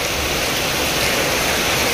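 Heavy rain pours steadily during a cyclone storm in Sinnar, a dense, loud, unbroken hiss with no gaps, close and alone without any voices.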